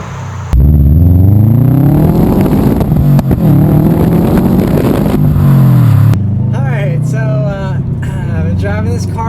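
A 2012 Subaru WRX STI Limited on the move, its engine droning loudly and climbing steadily in pitch as it accelerates, then settling to a lower hum while a person talks over it.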